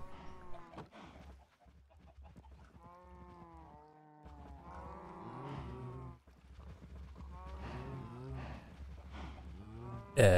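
Minecraft cows give several long, drawn-out moos one after another across the stretch, low and steady, with faint clucking chickens mixed in and a sharp thump at the very end.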